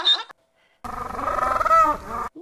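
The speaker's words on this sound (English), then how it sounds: "No, a donkey sounds like this." A donkey's bray, a harsh, strained, loud call lasting over a second after a short pause, preceded by a brief squeaky sound and heard alone without talk.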